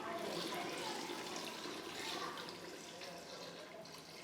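About 1.5 bowls of water pours steadily into a pot for chicken biryani, a continuous splashing gush that stays even and fairly close from start to finish.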